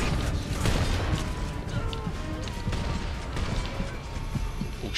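A shotgun fires in The Saboteur amid dense game noise, with sharp blasts and crashing impacts over a loud, continuous rumble that lasts for several seconds and has no clear talk.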